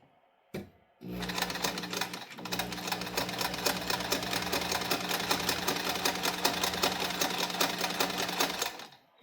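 A sewing machine stitches nursing pads. After a brief start and stop, one steady, fast, rhythmic run of stitching continues for several seconds, loud and close with no voices.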